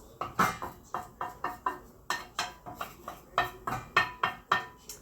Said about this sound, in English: I'm just gonna scrape down the sides